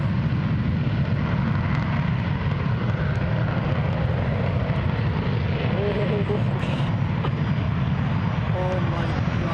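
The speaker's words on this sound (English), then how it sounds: "engines pull up and initiate toga takeoff" A Cargojet Boeing 727-200F at Toronto Pearson spools its jet engines up to takeoff thrust, a loud, steady, broadband roar that holds for the whole stretch with no break.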